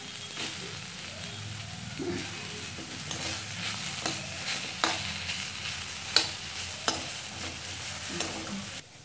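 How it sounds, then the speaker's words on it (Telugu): Five or six green chillies fry in a little oil with herb leaves, making a continuous close sizzle while a spoon scrapes and taps the pan in irregular strokes, steady and moderately quiet, with no voices. "కొద్దిగా నూనెలో బాగా మెత్తగా అయ్యేటట్టుగా వాడ్చుకుంటున్నాం ఇందులోకే ఒక ఐదారు పచ్చిమిరపకాయలు కూడా వేసేస్తున్నాం"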